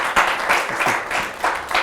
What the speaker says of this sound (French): ça s'applaudit très très très fort